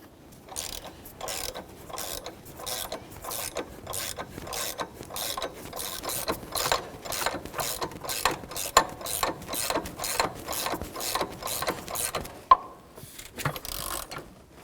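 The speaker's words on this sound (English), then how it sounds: "Since it's easier to get a ratchet on the outside here, I'll be turning my ratchet counterclockwise." A ratchet is turned counterclockwise on the power steering pump pulley of a 1999-2006 Chevrolet Silverado 1500, making a close, crisp run of rapid clicks in rhythmic bursts, with a brief pause near the end.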